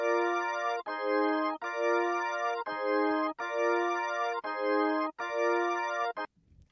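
Hammond B3 organ emulation from a Hanon B70 plugin with drawbars set 7-7-8-6-3-2-4-0-0, playing a run of sustained chords with brief gaps between them, loud and close, ending abruptly with a short trailing noise.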